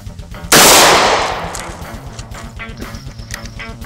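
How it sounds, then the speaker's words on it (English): A single loud, close gunshot from a .38 Special revolver cracks sharply and then rings out into a slowly fading echo, with a low rhythmic background rumble running underneath. "This is a 38 special revolver."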